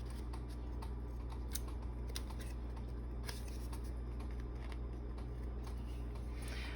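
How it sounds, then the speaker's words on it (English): Scissors trim the ragged ends off handmade flashcards, giving a few crisp, close snips spread over several seconds against a low steady background hum, with no talking. "Forgot to trim these ends off."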